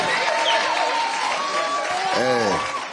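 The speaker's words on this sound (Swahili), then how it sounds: "Makofi, makofi." Applause from a crowd at a political meeting with people with disabilities in Nairobi, a steady wash of clapping beneath a person speaking.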